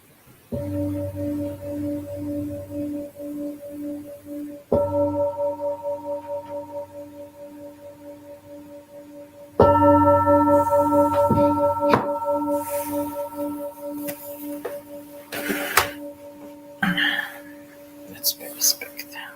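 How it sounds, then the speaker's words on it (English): A gong struck three times to close an evening chanting and meditation session, each stroke a deep sustained hum with slowly beating overtones fading under soft whispered speech, followed by quiet shuffling movement. "as you hear the gong slowly coming out from meditation."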